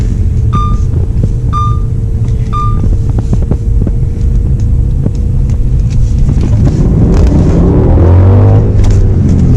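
An auction car fitted with a Lamborghini engine rumbles and throbs loudly from inside the cabin, a steady low drone that swells into a rising engine whine as it accelerates.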